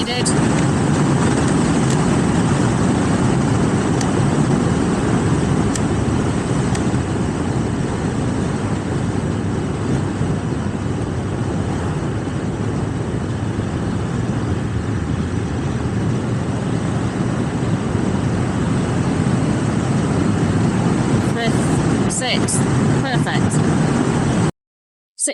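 A 2024 KTM Duke 790 motorcycle's engine drones loudly and continuously as the rider quickshifts up through the gears without the clutch, with wind rush and a rider speaking over it.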